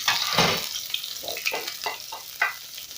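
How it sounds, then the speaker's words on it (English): Onions dropped into about 1.5 tablespoons of hot cooking oil sizzle loudly and steadily, with crackling bursts and a few stirring scrapes throughout, no voices. "it's hot enough, so I'm going to go in with my onions"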